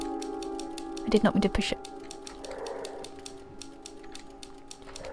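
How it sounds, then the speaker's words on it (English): A character typing on a typewriter in the game The Novelist, a quick regular run of mechanical key clacks in the background, briefly covered by someone speaking over it. "Oh, he's typing away."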